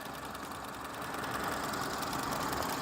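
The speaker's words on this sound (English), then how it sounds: "Engine's idling quite happily off of a cold start." A 2016 BMW X1 xDrive28i M Sport engine idling just after a cold start, heard close in the engine bay as a steady, smooth hum with slight mechanical ticking and no voices.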